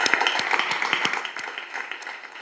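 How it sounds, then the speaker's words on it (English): An audience applauds the moderator of a regenerative tourism session in a steady burst of overlapping claps. The clapping holds throughout and fades slightly toward the end, with no voices. "a big applause for you for that expert moderation"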